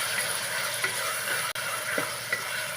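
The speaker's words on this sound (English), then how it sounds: "Now I'm going to add the tomato pieces. Again, I'm going to fry them very well" Tomato pieces fry for a ridge gourd and mutton curry in a pan over medium-high flame, giving a steady soft sizzle with a few faint stirring scrapes and no voices.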